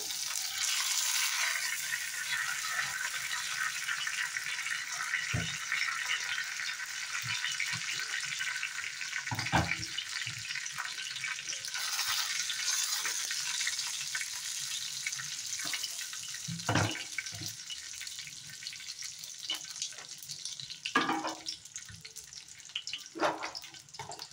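Whole spices — dried red chillies, cinnamon, cardamom and bay leaf — sizzle steadily in hot oil for a chicken dish, a continuous crackling hiss with occasional louder spits and stirring clinks, no talking.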